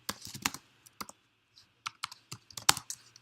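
Quick bursts of typing on a computer keyboard while entering code, with irregular clusters of crisp key clicks and short pauses between them, close and clear with no talking.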